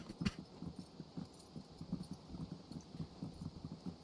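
Horse hooves clip-clop in a steady, moderately close rhythm through the scene of the video game Ertugrul of Ulukayin, with faint ambient background and no talking.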